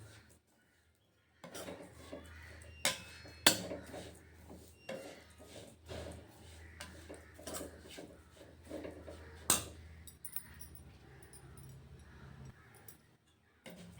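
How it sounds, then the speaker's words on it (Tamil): Semolina dry-roasting in a pan on the stove is stirred with a utensil, giving repeated scraping and clinking strokes with a few sharper knocks, fairly quiet and close. "ஸ்டவ்வில் வச்சுட்டு ரவையை நல்லா வதக்கலாம்"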